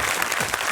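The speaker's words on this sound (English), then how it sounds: "Wow, that's a resounding round of applause" Brief burst of audience applause at a Pentathlon school competition event, a dense wash of clapping from a crowd filling the short moment without a break.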